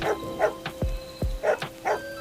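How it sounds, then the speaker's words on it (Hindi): Several dogs bark in short bursts, spaced irregularly, sounding moderately distant on a rainy night in the jungle, with a couple of deep descending yelps mixed among the higher barks. "दूर कहीं कुत्तों के भौंकने की आवाज उसके कानों में गूंज रही थी"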